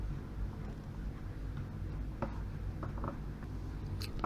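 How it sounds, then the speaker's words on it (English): Small metallic clicks and scraping from a screwdriver tightening the takedown screw on a Ruger 10/22 rifle, with a few sharp ticks standing out over a close, low background hum. "Tighten the takedown screw."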